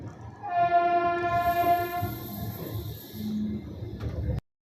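A Budhpurnima Express train with new LHB coaches rumbles along while its horn blares a long, loud sustained blast with a second tone joining, then fades before cutting off.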